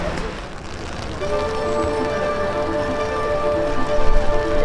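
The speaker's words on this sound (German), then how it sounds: "aber es regnet schon ganz schön" Rain falling on a Tokyo street, a steady hiss of drops on pavement and surfaces close by, with a faint tonal hum running underneath and the patter swelling slightly toward the end.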